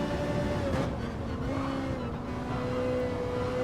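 Race cars in Gran Turismo, one closing on a Supra, give a steady engine drone with a held pitch that shifts slightly as the cars run together, fairly loud and without talk.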